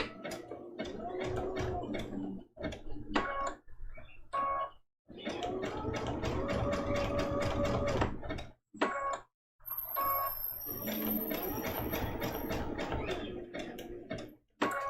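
A sewing machine runs a zigzag stitch around raw-edge applique on a Christmas ornament trivet quilt, giving rapid mechanical ticking in several runs of a few seconds each, broken by brief pauses.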